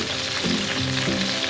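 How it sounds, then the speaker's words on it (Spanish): Garlic browns in oil in a pan with a dense, steady sizzle, loud and close throughout, with no voices over it. "Mientras se dora el ajo,"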